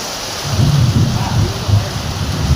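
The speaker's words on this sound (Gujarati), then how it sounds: "હવે વીજળીના કડાકા ભડાકા સાથે હવે આવું પહેલી વાર નજારો જોયો છે." Heavy rain pours during a thunderstorm with strong wind, a steady close hiss broken by deep rolling thunder rumbles swelling twice.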